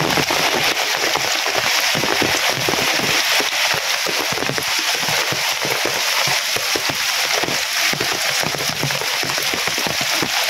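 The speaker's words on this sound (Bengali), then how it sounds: "টিনের চালে যে জল পরে" Steady rain drums on a tin roof, a dense, even hiss and patter that stays loud and constant throughout with no voices.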